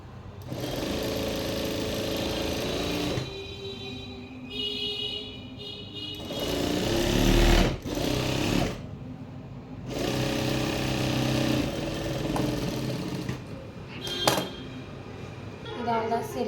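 Sewing machine stitching shirt fabric, a steady close mechanical whir running in long bursts that stop and start, with a person speaking between and over the runs.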